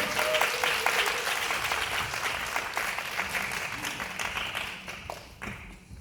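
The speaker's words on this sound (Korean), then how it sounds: "박수로 환영해 주시기 바랍니다." Applause from a crowd, dense steady clapping that gradually thins and fades toward the end.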